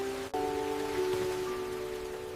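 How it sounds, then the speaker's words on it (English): Heavy rain pours down at night in a dense, steady hiss, with a faint tonal hum running underneath. "This rain is really coming down tonight, isn't it?"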